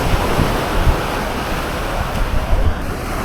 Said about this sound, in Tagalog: Solid, lakas ng alon.